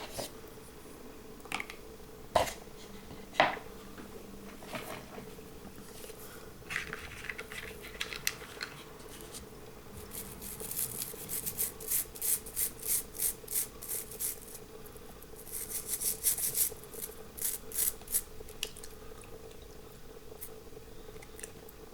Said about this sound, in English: There's Napoleon and Ilya and the windscreen going in for a little scrub